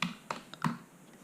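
Brief typing on a computer keyboard while filling in an electrical installation certificate online, with a few sharp, quiet key clicks spaced unevenly and close by.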